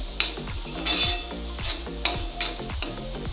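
Metal spoon scraping and clinking against a pan while prawn masala with softening tomato is stirred over low heat, a series of sharp clanks and scrapes at close range with no talking.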